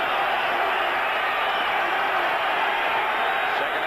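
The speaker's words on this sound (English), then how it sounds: "This crowd in Denver trying to make it tough on Marino." Steady roar of a football stadium crowd in Denver during a 1985 Dolphins–Broncos game, a broad continuous wash of noise from many distant voices with no distinct peaks.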